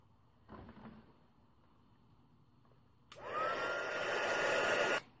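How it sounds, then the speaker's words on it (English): A heat tool blasts hot air to dry paper for a craft background. It starts abruptly after a few quiet seconds with small handling noises, then blows as a loud, close, steady whoosh for about two seconds before cutting off. "And I'm going to use the heat tool to dry them."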